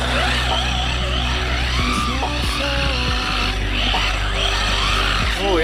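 A JJRC short course RC truck on drift wheels skids and whines, its electric motor revving and wavering loudly with repeated tire scrapes and squeals, close and continuous.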